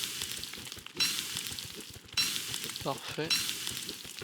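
Food sizzles as it cooks over a campfire in Don't Starve Together, a steady frying hiss with brief crackling bursts, while someone speaks briefly over it.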